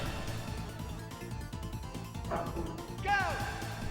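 Dog barking and yipping in the PS1 game Persona, a couple of short harmonic yelps near the end over dense game music and effects.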